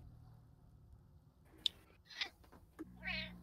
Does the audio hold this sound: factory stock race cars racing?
no